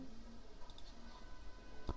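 Computer mouse click, one crisp sharp click near the end, close and isolated over faint background hiss.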